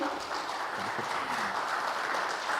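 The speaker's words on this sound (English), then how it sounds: "Can I have a round of applause for him?" An audience at a tech conference session in Kolkata gives a steady round of applause, moderately loud and even throughout with no speech over it.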